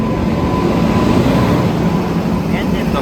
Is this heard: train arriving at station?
yes